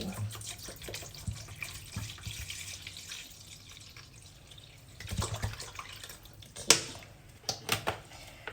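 Water runs steadily from a tap, splashing into a pot for chicken soup, with a few clanks and knocks of cookware near the end.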